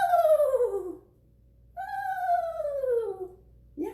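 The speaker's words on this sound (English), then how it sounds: "This one actually sounds like a little horse." Owl calling with a horse-like whinny, two clear descending wavering cries separated by a short pause, fairly close and alone over faint background hum, with a third call just starting at the end.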